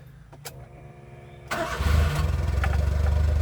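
A mini truck engine cranks briefly, then catches and settles into a steady, loud, rumbling idle close by.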